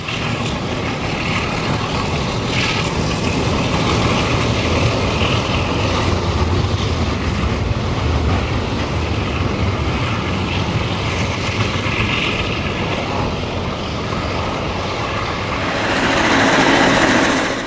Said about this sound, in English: an ABBA set of F7s leads ALCO PAs on Train 28, the eastbound overland